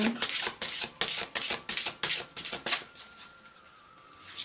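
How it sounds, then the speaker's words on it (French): A deck of Gaia oracle cards is shuffled, a quick series of close, crisp riffling flutters lasting a few seconds before falling quiet as a card is drawn. "je vais tirer maintenant une carte de Gaïa"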